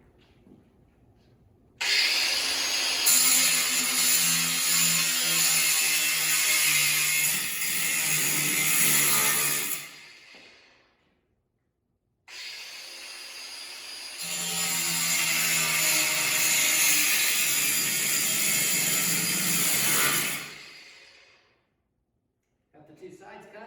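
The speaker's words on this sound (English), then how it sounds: "I've got one notch cut in one side of the angle iron, and now I'm going to do the second side." Steel angle iron being notched with a saw for a homemade pegboard assembly: two long, loud stretches of gritty cutting, each about eight seconds, separated by a brief pause.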